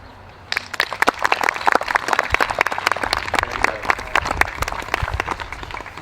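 A crowd applauds at an outdoor baseball opening day ceremony in Lewisboro, 2023: dense, continuous hand clapping from many people that starts suddenly and carries on steadily, moderately loud and close.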